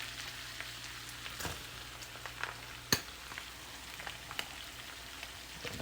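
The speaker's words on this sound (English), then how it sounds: "This is the oil and the butter, and we're gonna put in the onions." Onions frying in a pan of oil and butter give a soft, steady sizzle with scattered small pops and a couple of sharper clicks, close by and fairly quiet.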